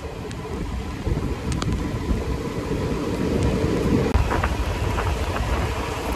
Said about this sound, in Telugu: వర్షం అయితే స్టార్ట్ అయిపోయింది.